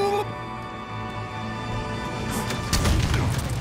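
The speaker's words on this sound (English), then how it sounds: "I got the rockets, bro. Here we go. Rocket!" A rocket launcher fires in Halo Infinite, a booming blast that follows an engine hum, with a player talking excitedly over it.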